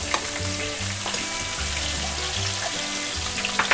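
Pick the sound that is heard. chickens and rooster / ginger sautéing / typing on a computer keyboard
ginger sautéing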